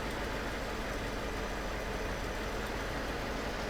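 A classic Mercedes engine idles steadily with a low, even hum, close and fairly quiet, with no voices over it.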